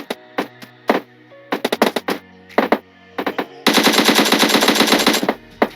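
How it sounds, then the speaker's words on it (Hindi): M4 rifle fire in a shooter video game rings out loud and close, first as scattered single shots and short bursts, then as one sustained rapid burst near the end. "कभी कभार मैं प्री फायर के नाम पे हवा में ही गोली चला देता हूँ"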